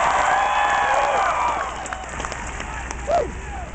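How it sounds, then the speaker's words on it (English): A rally crowd at a Barack Obama speech in La Crosse, Wisconsin, claps and cheers loudly at first. The roar fades after about a second and a half into scattered claps and a brief raised voice near the end. "Give him a round of applause."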